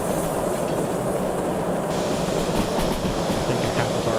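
Steam train running in the railway simulator game Derail Valley, a loud continuous rumble of wheels and engine noise with faint rhythmic clatter throughout, no voices.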